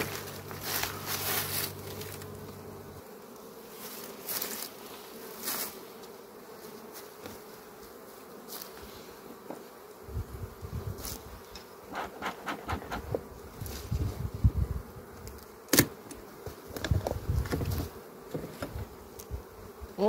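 Honeybees hum steadily inside an opened hive on full brood nests in low-frame housing, a dense close drone with light knocks and scrapes of frames and tools, no talk.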